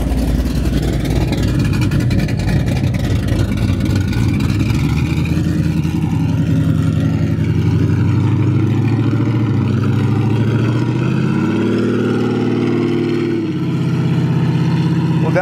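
A 1970 Chevrolet Nova SS with open headers rumbles loudly up close, its engine revving in rising and falling surges with a rough, throaty idle underneath and a sharp climb near the end.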